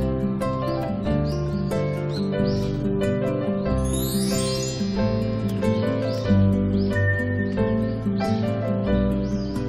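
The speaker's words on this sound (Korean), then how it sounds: "푸르른 나무와 아름다운 새소리가 어우러져 이곳을 찾아온 사람들의 마음을 편안하게" Songbirds calling among green trees on Oeyeondo island, a steady stream of varied chirps and warbling phrases carried over a continuous bed of background sound, with no voices.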